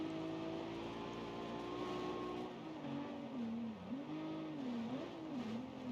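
Race car engine in a BeamNG Pikes Peak hillclimb, droning steadily, then dipping and rising in pitch through a hairpin as the throttle lifts and reapplies, a quiet continuous tone with no talk.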